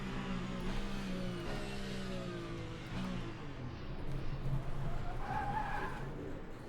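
Race car rear tyres lock and skid in Le Mans Ultimate, a sustained scrubbing screech over steady engine drone that swells in the last seconds.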